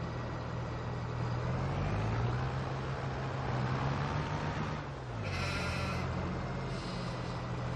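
Sheep bleat in a Farming Simulator farm game at Purbeck Valley, two short higher cries around the middle and end of the clip over a steady low hum of a vehicle engine, with no talk.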